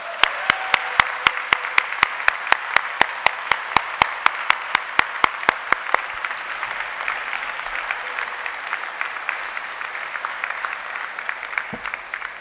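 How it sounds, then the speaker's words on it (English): Graduates at a university degree ceremony applaud their families and supporters: loud, crisp claps rise sharply at first, then soften into a quieter, steady patter that fades toward the end. "please give them an enormous round of applause as well"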